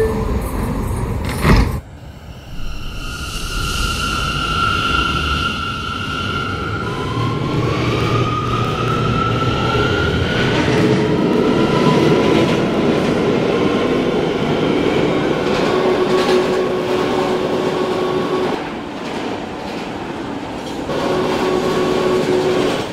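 A New York City R179 C local subway train rumbles loudly along the tracks with a sharp clank early on, then rising and falling whines from the motors as it runs steadily.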